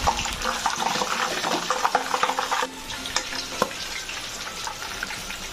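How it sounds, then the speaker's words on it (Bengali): Green chillies fry in hot oil in a pan after sliced onions, giving a loud, dense sizzle with stirring scrapes that eases to a softer steady crackle partway through. No one speaks. "কাঁচা লঙ্কাও ভেজে নেব।"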